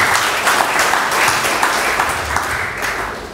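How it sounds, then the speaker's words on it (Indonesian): Dense applause from a church congregation during an Indonesian sermon, steady and loud throughout with many overlapping claps and no talking. "Kasih tepuk tangan bagi Tuhan."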